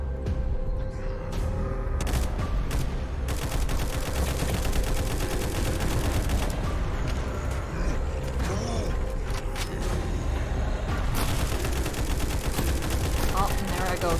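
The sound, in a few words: gunfire shooting a barrel in Frontline Zed video game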